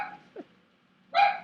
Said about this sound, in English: Did he seriously bark because of that?